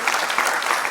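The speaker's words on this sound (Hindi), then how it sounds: "उनके लिए जोरदार तालियां बजाई" A burst of loud, dense applause from a crowd, steady clapping filling the whole moment.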